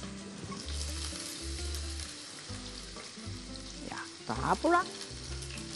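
Potato sticks fry in a pan with a constant, close crackling sizzle and soft stirring clatter, while someone speaks briefly near the end.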